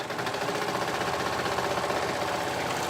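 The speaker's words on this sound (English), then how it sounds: "sewing those layers" A sewing machine stitches through thick cardigan layers, running in a fast, even mechanical patter, close and continuous with no talk.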